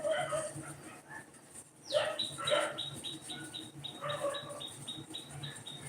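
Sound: dogs barking

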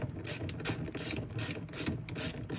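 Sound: 10 millimeter socket ratchet removing nuts

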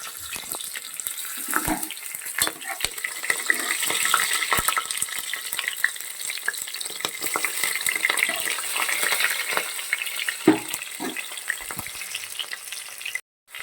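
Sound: sliced green chilies frying in ghee

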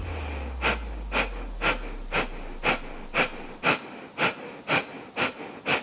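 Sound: kapalabhati yoga breathing exercise, forceful belly breaths

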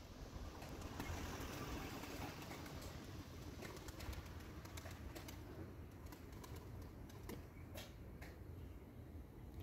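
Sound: Turkish tumbler pigeons flying, wings flapping

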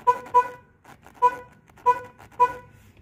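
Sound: Chevrolet Corsa car horn honking

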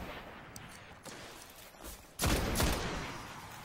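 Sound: gun firing in video game Destiny

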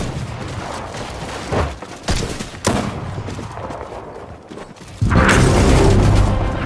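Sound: shotgun gunfire in video game

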